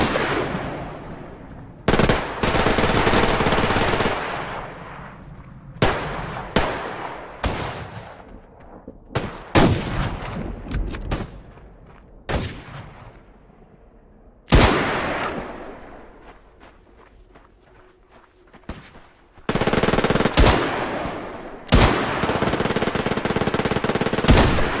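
A Colt Python revolver fires in the Survarium video game. The loud, sharp gunshots come singly and in quick clusters, with short silences and fading tails between them.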